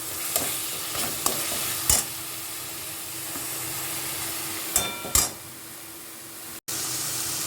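Green chili paste and Kashmiri chili powder fry in a pan for a Dhaba-style chicken vorta, a soft steady sizzle with occasional spoon scrapes and clicks, close and moderately quiet.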